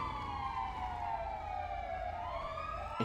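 Police sirens wail in a roleplay video game, a loud rising-and-falling sweep of several overlapping sirens at close range with a steady engine rumble beneath, no voices.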